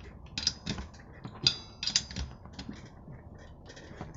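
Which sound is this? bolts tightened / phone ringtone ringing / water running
bolts tightened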